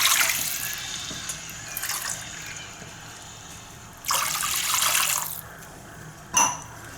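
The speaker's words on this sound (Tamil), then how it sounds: "சோ 3 டம்ளர் தண்ணி ஆட் பண்ண போறேன்." Water is poured from a tumbler into a pot for ghee rice, coming in a few short splashing bursts separated by quieter trickling, close and fairly soft.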